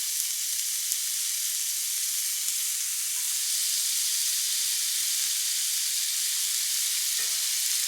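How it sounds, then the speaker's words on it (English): Seasoned Puerto Rican jibarito sliders sizzle steadily in a hot skillet, a constant close frying hiss with no talk over it. "I'm going to go ahead and place them in the skillet seasoned side down."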